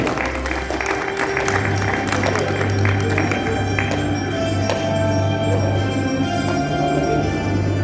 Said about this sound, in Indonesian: Kita berikan tepuk tangan yang paling meriah untuk Kabupaten ND.